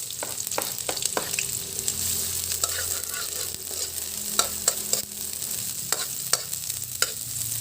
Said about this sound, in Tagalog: Umpisa na natin mag-gisa.